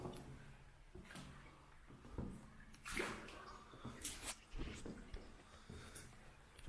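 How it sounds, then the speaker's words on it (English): Faint water flows in the distance inside a Victorian culvert in Leicestershire, a quiet, hollow rushing with a few soft splashes and knocks echoing in the tunnel. "you can hear the water in the distance"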